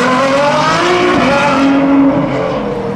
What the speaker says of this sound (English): He's been seen driving this thing around, also pretty hard.